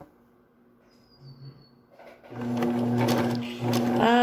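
Home sewing machine stitching fabric, quiet handling at first and then a steady whirring hum of stitching that grows louder toward the end.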